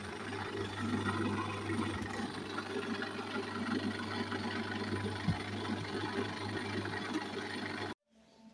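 A dough mixer motor hums steadily at close range with a constant low drone and faint mechanical rattling, stopping abruptly near the end; the gearbox is faulty.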